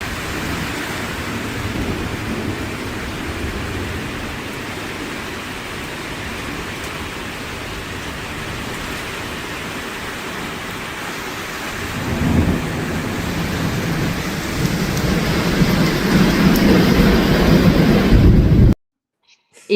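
Heavy rain roars steadily through a thunderstorm near Oklahoma City while deep thunder rumbles below. The downpour swells louder in the second half before the sound cuts off abruptly.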